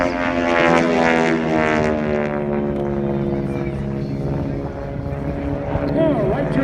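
A T-6 propeller trainer airplane flies at an air show in Terrell, Texas, its engine drone loud and steady with a strong harmonic hum throughout, shifting slightly in pitch as it passes close by.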